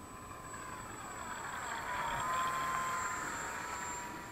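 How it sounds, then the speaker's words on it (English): A Dynam Primo 1450mm STOL radio-controlled model plane flying mock landings with half flaps, its electric motor whining steadily as it swells closer and then fades slightly, with no talking. "I'm doing a few mock landings to see what the plane behaves like"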